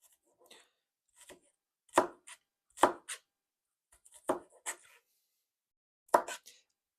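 Onion being cut with a knife on a board during home cooking, with sharp separate chops in uneven bursts, near and fairly loud, with short quiet gaps between them.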